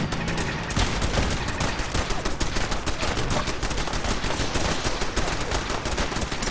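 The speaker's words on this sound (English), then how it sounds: "Fire incoming on your target." Incoming gunfire pounds a target in Fallout 4, a dense sustained barrage of rapid shots and bursts, loud and close, running continuously without pause.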